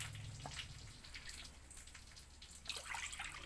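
Water running from a kitchen tap, a faint steady hiss and patter with intermittent splashy bursts, distant and low in level, with no voices.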